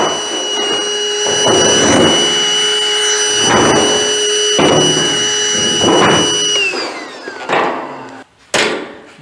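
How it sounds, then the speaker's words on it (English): A vacuum sucks metal shavings out of a homemade steel fuel tank for a 1940 Chevy coupe, a steady whine under rattling, surging grit pulses that come every couple of seconds before the machine winds down. "see if I can vacuum some of that stuff out."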